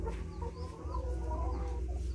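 Chickens on a farm clucking near the microphone, a short burst of soft, irregular clucks over low background noise.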